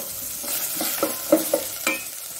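Green peas, potato and carrot frying in ghee and oil, a steady close sizzle broken by several sharp stirring scrapes and clacks of a spoon against the pan.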